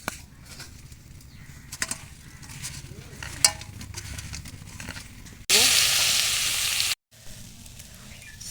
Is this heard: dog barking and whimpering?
no